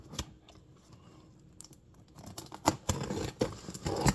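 A blade cuts through a cardboard mail box in irregular scraping and tearing strokes, faint at first and then louder and more frequent, close by with no talk.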